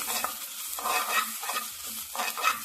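Curry leaves fry in a little oil in a pan on a stove turned to low, giving a close, steady crackling sizzle with recurring louder pops and bursts and no talking.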